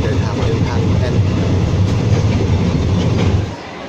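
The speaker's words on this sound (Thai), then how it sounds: "อันนี้ก็เป็นลักษณะรถไฟ" A crowded Bangkok to Phitsanulok passenger train runs along the track with a continuous loud rumble and wheel clatter, heard from inside the carriage, with faint voices underneath, before the noise drops near the end.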